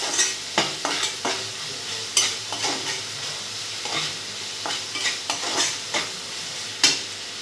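Sea fish frying in a pan, sizzling steadily while a spatula stirs and scrapes it in repeated sharp strokes, close and fairly loud, with no one speaking.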